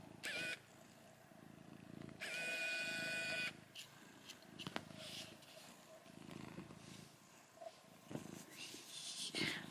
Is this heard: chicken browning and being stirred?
no